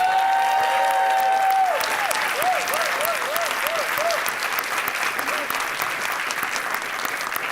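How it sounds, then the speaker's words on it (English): A nursing school pinning ceremony audience applauds Sue Collette, steady clapping under a brief sung or spoken voice at the start, then fading slightly toward the end. "Sue Collette, I really want to give you another round of applause"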